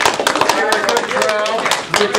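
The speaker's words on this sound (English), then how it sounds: "Let's have another warm round of applause" Audience applause at a live debate event, a dense wash of many hands clapping steadily for about two seconds, loud and close, with some voices mixed in.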